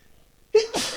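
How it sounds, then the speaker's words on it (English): A single sharp sneeze from an allergy sufferer whose allergies were stirred up by dust, bursting suddenly out of near silence with a voiced onset and then a breathy, hissing release, close and loud. "So you probably gonna hear a lot of sneezing."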